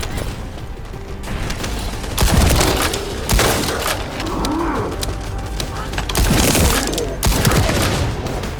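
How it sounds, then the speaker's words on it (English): Rapid bursts of gunfire in the video game The First Descendant crackle in several loud volleys over a busy, noisy background, with brief lulls between the bursts. "That stopped the gunfire."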